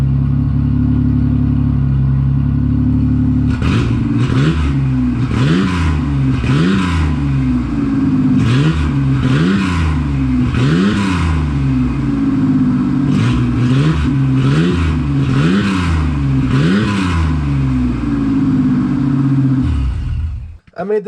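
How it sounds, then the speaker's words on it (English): A 1988 Ford Bronco II V6 with a choppy idle is revved again and again, each blip rising and falling in quick repeated bursts, loud and close, before cutting off at the end. "it sounds like a little dinky V6"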